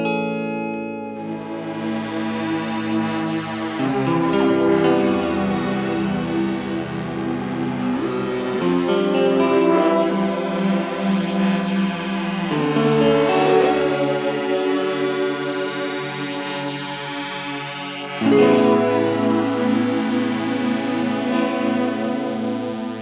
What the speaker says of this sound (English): This is going to be a clean guitar.